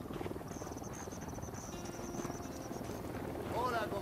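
Helicopter rotors in Ghost Recon Wildlands thrum in a steady, fast beat, with a whine layered over them and voices talking on top.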